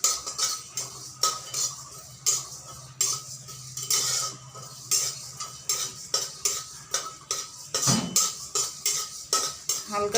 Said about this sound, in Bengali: আমি বানানোর জন্য আমি প্রথমে মশলাগুলোকে ভেজে নিচ্ছি।